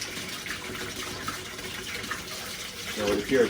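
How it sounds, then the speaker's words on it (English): Hot water runs steadily from a household faucet as the drinking-water pipes are flushed, a constant hiss of flow with a slight swell near the end. "we've been flowing the hot water at this faucet for 3 or 4 minutes"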